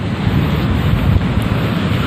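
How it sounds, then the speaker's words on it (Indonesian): Ocean surf at Pandawa Beach in Bali, a steady low rumbling wash of waves mixed with wind buffeting the microphone, continuous and fairly loud with no talk. "Tuh ombak-ombaknya."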